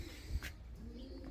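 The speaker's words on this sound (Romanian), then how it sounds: "Aici sunt porumbeii noștri de reproducție, iar aici sunt puii." Racing pigeons coo softly in a loft holding breeding pairs and young birds, a few low, faint murmuring calls against quiet room noise.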